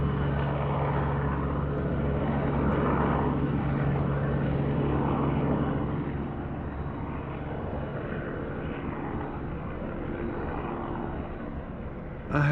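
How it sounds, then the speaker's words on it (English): Helicopter hovering low over trees with two hoops suspended below it on cables, a continuous droning rotor and engine roar that stays strong and then eases slightly toward the end. "seen a helicopter with something hanging below it like that"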